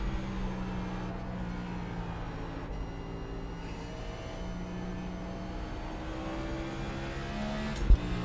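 A NASCAR stock car's engine drones steadily from onboard on laps around Watkins Glen, holding a loud, constant pitch with a brief sharp knock near the end and no talking.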